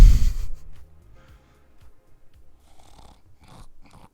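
A voice imitates snoring with a loud, throaty snort at the start, followed by quieter rasping breaths and soft snuffling sounds spread out over a few seconds.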